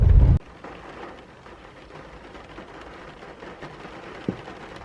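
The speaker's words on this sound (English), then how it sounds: "It's so bloody rainy outside." Steady heavy rain hisses outside a parked car, a dense, even wash of sound after a brief louder thump at the start, with one small knock near the end and no voices.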